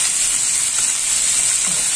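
Food frying in a pan on a home stove, a steady bright sizzle with constant hiss close up and loud, no voices.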